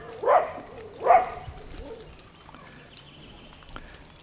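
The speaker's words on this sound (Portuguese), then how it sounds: "Olha a cachorrada aqui. É muito cachorro" A pack of dogs in Tracajatuba, Amapá, gives two loud barks early on, then fades into quiet outdoor ambience with faint bird calls.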